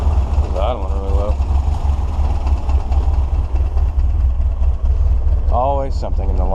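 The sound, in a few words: car engine idling low, AC on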